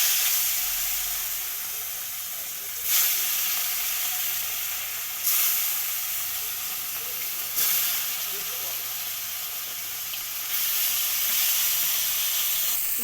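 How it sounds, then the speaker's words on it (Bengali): Pieces of katla fish frying in oil in a wok, giving a steady loud hiss and sizzle close by, with a few brief surges as pieces are turned or added. "এবার কড়াইতে তেল দিয়ে মাছগুলো আমি ভেজে নেব।"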